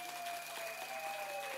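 An audience claps without pause at an International Women's Day livestream event. The applause is dense and even, sounding fairly soft and distant, with a steady tone humming underneath.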